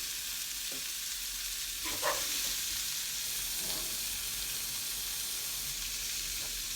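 Cherry tomatoes sizzle in a hot pan for a couscous salad, a steady broadband hiss of frying with a few soft stirring scrapes, no talk over it.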